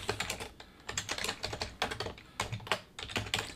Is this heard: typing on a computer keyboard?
yes